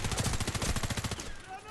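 Rapid automatic gunfire in the video game Warface on the Hangar map, a fast rhythmic burst of close shots lasting about a second before cutting off.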